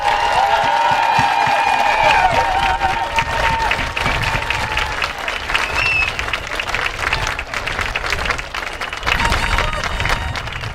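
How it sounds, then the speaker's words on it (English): Steady, dense applause and some cheering from a large audience for the graduating class at the Cuyahoga Heights High School 2021 commencement, filling the whole stretch with a crowd murmur mixed in. "This class deserves another round of applause."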